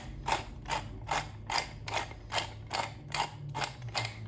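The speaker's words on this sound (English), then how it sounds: "I'm gonna salt and pepper this." Salt and pepper grinder cranked by hand over chicken for chicken fried chicken, a close, steady run of about ten rhythmic grinding rasps, each a short gritty burst.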